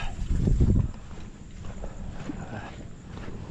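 Wind gusts buffet the microphone outdoors at night in Banagan with a strong rumble early on, then settle into a softer, steady blowing with light background noise.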